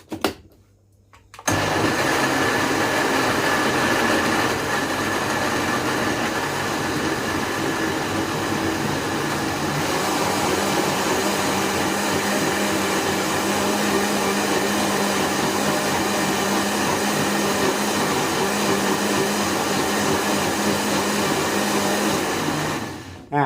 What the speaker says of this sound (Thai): มา ปั่นกันเลยครับ